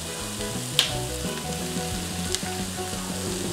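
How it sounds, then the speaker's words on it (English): Butter melting and sizzling in a pan at the start of a roux for a white sauce, a steady soft crackle with a couple of brief clicks and faint background hum. "add 3 tablespoons of butter, because we're going to start making our roux for our nice white sauce"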